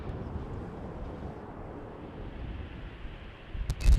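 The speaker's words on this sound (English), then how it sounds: "Another Embraer making its way over here." An Embraer airliner near Amsterdam Schiphol Airport, by windy runway 36L, gives a steady, fairly distant low rumble under wind noise, with a few sharp bumps near the end.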